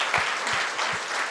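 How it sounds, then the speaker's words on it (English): Audience applause after an onstage interview with Serena Williams, a steady wash of clapping throughout with a few low thumps, no voices. "you guys deserve a huge pat on the back, a huge round of applause"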